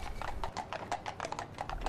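Horses' hooves clip-clop on a road at a funeral procession, a steady run of close, crisp strikes over a low background rumble.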